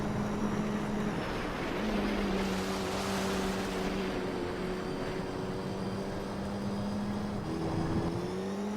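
Racing car engines in Gran Turismo 3 arcade mode hum with a steady low tonal drone, pitch dipping and rising slightly across the lap, layered with broadband road and wind rush and no voices.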